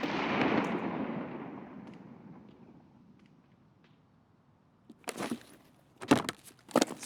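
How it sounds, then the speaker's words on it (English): A grenade bursts in a first-person shooter, a broad loud blast that fades into a long rumbling tail, followed a few seconds later by several sharp, close bursts of further explosions or gunfire, with no talking. "So that was a nade towards like Lexus."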